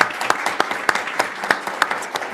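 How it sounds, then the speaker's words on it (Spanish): Applause from a congress audience honoring the rectors at the opening of an international conference on government and public policy, a steady patter of clapping hands at moderate distance with regular stronger bursts. "Pedir un aplauso para nuestros"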